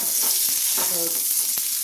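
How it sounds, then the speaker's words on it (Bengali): Boiled potatoes fry in oil with bay leaf and panch phoron, giving a steady, close, loud sizzle broken by brief stirring scrapes, with no talking. "ফোড়ন দিয়ে আগে আলুগুলো ভাজা হচ্ছে"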